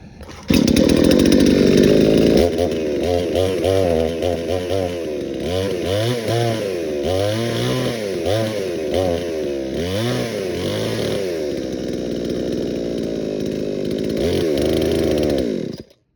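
A Chinese 5200 chainsaw starts with a rough catch, then runs with the engine revving up and down in repeated surges before settling into a steady idle and cutting off, loud and close, with no voices.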